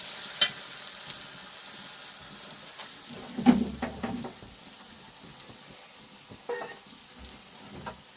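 A tadka for lentil dal made from urad, chickpeas and kidney beans sizzles and fries steadily in a pan at moderate volume, with a few stirring clatters and knocks scattered throughout and no talking.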